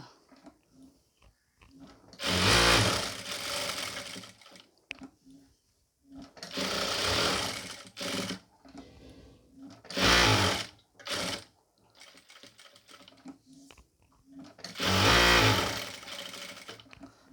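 An electric sewing machine stitches a pleated nighty in loud, rapid bursts lasting a second or two each, separated by quieter pauses with faint handling noise, heard close up.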